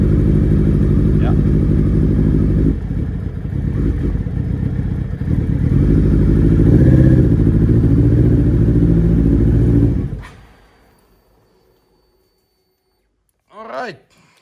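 A Suzuki Hayabusa motorcycle engine misfiring on three cylinders idles loudly and unevenly for about ten seconds, then cuts off into near silence, with a brief metallic clatter at the very end.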